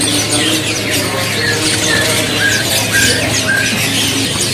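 Dark-coloured canaries in cages at a bird market give a dense, busy chorus of chirps and squawks, with short high calls repeating over steady background noise.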